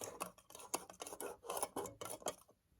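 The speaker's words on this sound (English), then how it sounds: "I'm just stirring it around" Spoon stirring diaper powder gel mixed with food-colored water in a container, rapid repeated scraping and clinking strokes at close range that fade out at the end.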